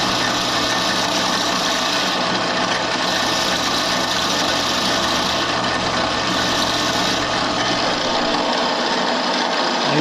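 A drill press clearancing 13B-REW rotary engine side seals gives off a loud, steady whirring hum mixed with a continuous gritty rasp of metal being ground under light pressure, with no talk.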